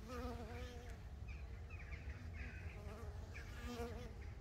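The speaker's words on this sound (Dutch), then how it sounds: "Kijk, er komt ook een wesp." A wasp buzzes near a beehive amid a steady, dense drone of bees, continuous and close throughout.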